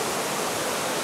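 Curug Lawe waterfall near Semarang, with one large fall and several smaller ones, gives a steady, close, full roar of falling water with no voices.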